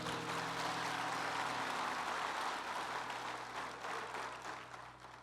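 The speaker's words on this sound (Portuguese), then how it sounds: "pode aplaudir o Senhor" Church congregation applauding during a Portuguese-language worship service, a dense steady wash of many hands clapping at close range, sustained throughout and thinning slightly at the end, with a low hum underneath.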